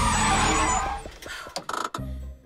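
A bus's engine rumble fades as it slows, followed by a few sharp brake hisses and squeaks as it comes to a halt, in an animated cartoon.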